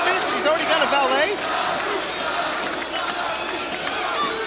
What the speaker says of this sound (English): crowd obviously favoring Sabu in this match.